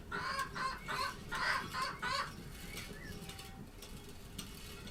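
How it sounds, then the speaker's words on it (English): A chicken clucks several times in quick succession, fairly close, then falls quiet over a low background hiss. "Shut up, chicken."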